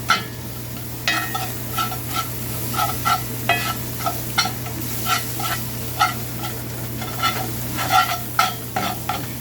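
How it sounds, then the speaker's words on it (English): Flour being stirred into sizzling butter in a frying pan, with a soft continuous fry and repeated scraping strokes of a utensil at an irregular rhythm, close and moderately quiet. "make sure we get all that flour mixed in properly"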